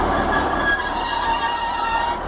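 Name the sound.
train passing through Tiverton Parkway station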